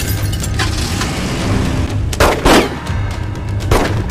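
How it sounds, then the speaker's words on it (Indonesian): Gunfire in a film shootout between police and mafia gunmen: a few loud, sharp shots over a dense, rumbling soundtrack. "terjadilah adu tembak di antara mereka"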